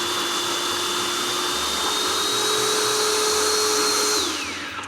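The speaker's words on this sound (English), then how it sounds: "and I'm gonna blend. It's gonna get loud." Kitchen blender running loud and steady while blending pesto ingredients including olive oil and lemon, a continuous whirring motor drone that shifts pitch slightly near the end.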